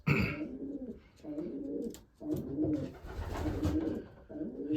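Pigeons in a loft coo repeatedly in soft, rhythmic bursts close by, with the calls overlapping and no talking.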